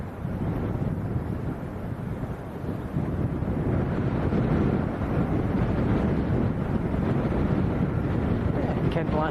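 Cold wind at Leeds Bradford Airport roars and buffets against the microphone in a constant, loud, low rush that never lets up.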